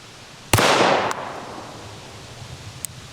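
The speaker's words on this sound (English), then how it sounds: "I'm just gonna slowly press the trigger to the rear and let these pistols do what they do." A 9mm carry pistol fires one sharp, loud shot that rings out briefly, followed by a much fainter second pop and a small click near the end, with no talking.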